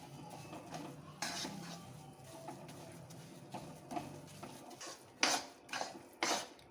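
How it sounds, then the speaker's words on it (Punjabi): Gram flour (besan) roasts in a pan over a slow gas flame as a spoon stirs and scrapes it, producing soft intermittent clinks and scraping strokes with a faint background sizzle, fairly quiet and without talk. "ਹੱਲੇ ਅਸੀਂ ਇਹਨੂੰ ਥੋੜੀ ਦੇਰ ਲਈ ਹੋਰ ਭੁੰਨਾਂਗੇ ਬਿਲਕੁਲ ਸਲੋ ਫਲੇਮ ਤੇ ਇਹਨੂੰ ਭੁੰਨਣਾ ਹੈ"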